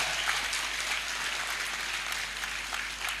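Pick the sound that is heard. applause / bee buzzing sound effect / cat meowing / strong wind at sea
applause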